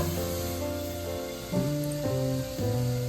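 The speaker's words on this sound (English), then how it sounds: "garlic, crushed, saute" Crushed garlic sautéing in hot coconut oil in a skillet over medium heat, giving a steady, soft sizzle under stepping background music.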